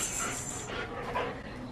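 Pet dogs pant close by indoors at home, a steady breathy rasp with soft bursts of heavier huffing and no talking.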